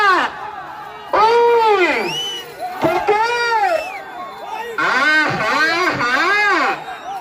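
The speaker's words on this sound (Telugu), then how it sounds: "కేకలు కేరికలు" Crowd at a bull race in Jammalamadugu, Andhra Pradesh, shouting and cheering in loud rising and falling waves, with voices swelling in bursts across the scene.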